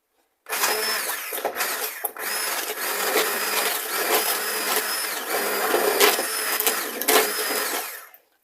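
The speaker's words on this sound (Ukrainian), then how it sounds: "я беру погружний блендер, можна толкушку, і деяку кількість грушок треба просто перебити" An immersion blender whirs loudly and continuously, its pitch rising and dipping as it purees pears for jam, stopping briefly once before starting again.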